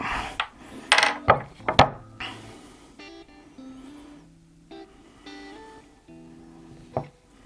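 Wax being peeled off a wheel of blue Gouda cheese, with scattered close crinkling, scraping and tearing sounds, a few sharper snaps early, then quieter rustles with pauses.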